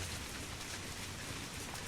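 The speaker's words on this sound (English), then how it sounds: "Raining like crazy." Heavy rain pours down in a dense, steady roar that fills the whole clip without a break.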